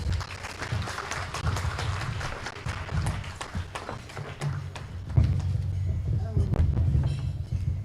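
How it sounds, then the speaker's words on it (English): An audience at a ULAA 50th anniversary celebration claps for a guest speaker, a steady patter of applause with scattered louder claps and thumps, a voice talking over it at times. "Let's give her a round of applause"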